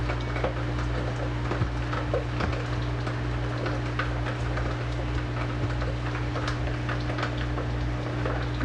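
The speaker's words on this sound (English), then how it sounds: "That's the water pump going off." A hydroponic system's water pump runs steadily throughout, a constant low hum with a faint electrical whine and light ticking on top, with no speech.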